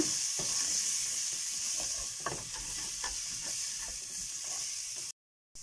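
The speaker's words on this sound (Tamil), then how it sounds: "பாசி பருப்பை நெய்யில் வறுக்கும் போது தாங்க அதனுடைய மாசனை ஃபுல்லாக வந்து அந்த பொங்கல் வந்து நல்லா டேஸ்ட்டாக இருக்கும் நல்லா வறுத்துக்கலாங்க" Moong dal roasts in ghee in a pan for ven pongal, a soft steady sizzle with light stirring scrapes, cutting to silence just before the end.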